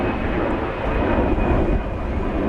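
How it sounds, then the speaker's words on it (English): A fixed-wing airliner taking off at DFW Airport, a steady broad jet-engine roar heard from a distance, sustained and fairly loud throughout with no talk. "Plane just taking off there"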